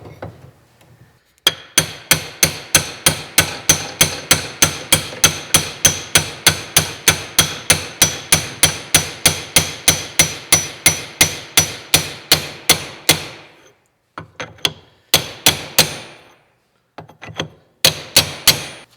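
New kingpin bushings are driven into the axle of a 1930 Ford Model A with a hammer. Sharp metallic blows come in a fast, steady run of dozens of strikes, then a few scattered bursts, loud and close.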